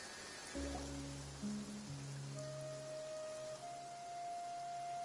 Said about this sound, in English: It always rains when I go on an adventure.